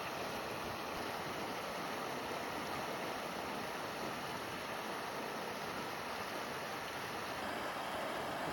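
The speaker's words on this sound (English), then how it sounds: "It's so peaceful and relaxing listening to the sound of this small river." A small river on the Phobjikha nature trail in Gangtey Valley, Bhutan, rushes in a steady, dense broadband wash with no breaks, close and continuous.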